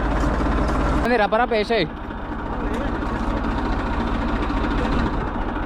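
A tractor engine runs in a paddy field during rice transplanting, giving a steady low rumble throughout, and someone talks briefly over it near the start.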